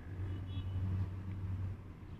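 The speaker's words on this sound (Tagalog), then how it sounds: "i-on natin yung sasakyan" A car with a flashing security light and a starting fault runs just after being switched on, giving a low, steady idle hum that stays faint throughout.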